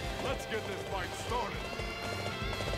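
A horse gallops in the video game Dynasty Warriors 8, its rapid rhythmic hoofbeats running steadily under dense battle noise and game music, with a voice talking over it.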